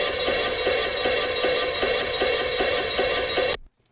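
Open hi-hats run through a ping pong delay preset, bright sizzling hits repeating in a steady rhythm with echoes bouncing between sides, loud and dense, then cutting off abruptly near the end.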